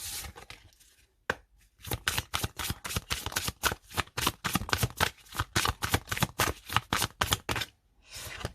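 Oracle cards are shuffled for a reading in a rapid run of crisp riffling flutters, close and fairly loud, with a short pause near the start and another near the end.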